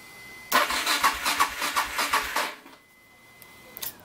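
A motorcycle engine cranks on its 12-volt battery without starting, a rapid rhythmic whirring of about eight pulses lasting two seconds, then quiet with a brief click.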